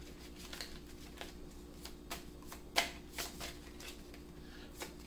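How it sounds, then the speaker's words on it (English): Tarot cards are shuffled by hand in a quiet room, a close series of soft riffling flicks and slaps at an irregular rhythm, one sharper snap standing out, with a low steady hum beneath and no talking. "There's a card I keep seeing as I'm pulling, or should I say shuffling"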